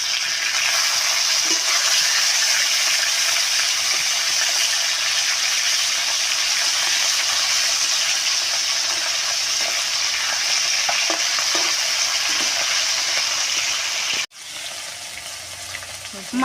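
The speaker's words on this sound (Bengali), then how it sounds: "এখন মাছগুলো ভেজে নেব।" Bam fish (eel) pieces fry in hot oil and get turned over, giving a loud, steady close sizzle that runs throughout before a brief dip near the end.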